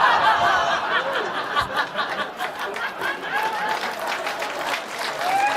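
A comedy club crowd at a crowd-work stand-up set in LA breaks into sustained applause, mixed with scattered chuckles, laughter and murmured chatter, loud and close throughout.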